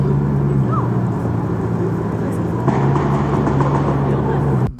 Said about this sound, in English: Definitely a supercar around.